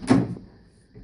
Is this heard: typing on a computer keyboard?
no